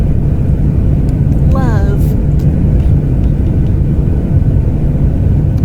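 In the video game Hearts & Hexes, a plane engine drones loudly and steadily throughout, while a voice briefly speaks over it.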